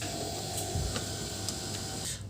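A Canon LBP 6030W laser printer powering on, giving a quiet steady mechanical hum with a few soft clicks and whirs spread through, close by and with no voices.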